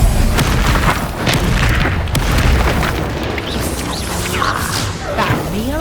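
Heavy booming blasts from the Confringo and Bombarda spells in Hogwarts Legacy, loud and dense, with a player's voice calling out over the explosions.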